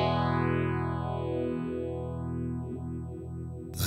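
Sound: subtle phaser effect on Sonicake Matribox 2 guitar pedal

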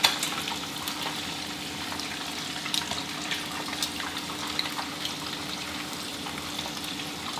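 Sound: shrimp frying in oil

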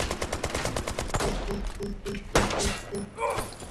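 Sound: gunfire in video game Brothers in Arms 3

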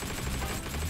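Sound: gunfire from a gun in the video game Heroes and Generals

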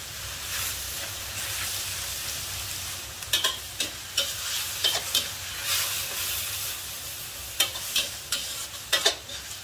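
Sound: stir-frying fish with celery over high heat

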